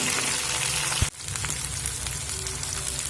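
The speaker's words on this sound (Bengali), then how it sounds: "আলু আর পেঁয়াজের সঙ্গে ভেজে নেব তবে অবশ্যই কিন্তু মিডিয়াম ফ্লেম করেই ভাজতে হবে" Potatoes and onions frying in oil over a medium flame, a continuous close sizzle with a brief clatter and dip partway through before the steady frying resumes.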